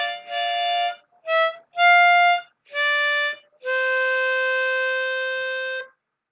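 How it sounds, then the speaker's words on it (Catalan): A harmonica sounds a series of reedy, buzzing notes in short breaths, then holds one long sustained chord before it stops. "No, el que ha sonat és una harmònica."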